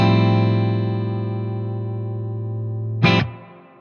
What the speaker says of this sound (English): once I turn that reverb up a little bit, I mean, there it is, just barely on